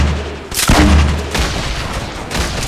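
Video game gunfire in a squad shooter match, a few loud, sharp shots with booming tails, one heavy blast near the start followed by further reports, close and punchy with no talk.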